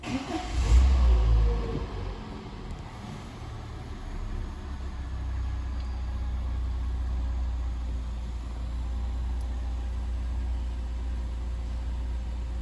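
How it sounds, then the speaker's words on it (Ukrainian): A 2012 Peugeot 207 engine with 76,000 mileage idles with a low, even rumble, steady and close, after a brief louder thump at the start. "Двигун працює чітко, рівно"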